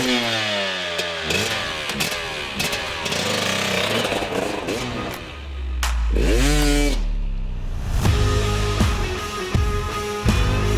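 A 250cc two-stroke dirt bike engine fires up and revs hard, its loud rising and falling engine tone repeating in bursts close by, with a deep low rumble partway through.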